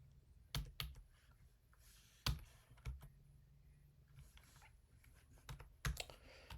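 Java code is typed on a computer keyboard in short, separated bursts of crisp key clicks, close and fairly quiet, with pauses between groups and no talking.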